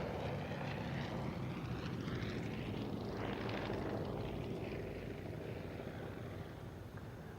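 An Avro Anson propeller aircraft flying at an airshow passes with a moderately distant, droning engine roar that rises and sweeps in pitch before fading slightly toward the end.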